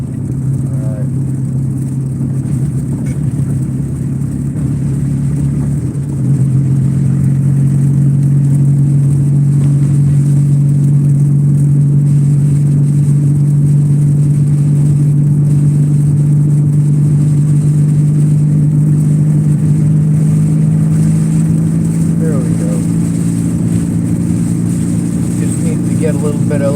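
A car cruises along a highway with a steady engine drone and road hum inside the cabin, close and loud throughout, as someone talks over it.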